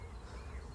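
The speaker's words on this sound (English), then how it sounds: "Oh yeah, they are wasps." Wasps buzzing near a nest outdoors, a faint, continuous low drone heard for under a second with no voices.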